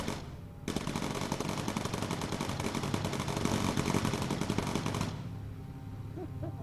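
Rapid machine gun fire from bomber gunners in the aerial combat game Bomber Crew, a dense continuous burst that runs about four seconds before cutting off, followed by quieter game ambience.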